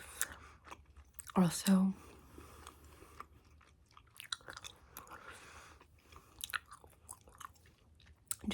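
Soft, wet chewing of Bubble Yum gum close to the microphone, with intermittent smacks and one louder crunchy burst early on, under quiet, soft-spoken talk.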